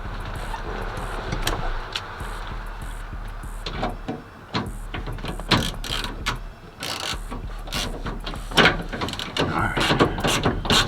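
A ratchet works on the bolts of a new passenger door window motor in a Cutlass, giving scattered bursts of clicking and metallic rattles against a low background hum, close by.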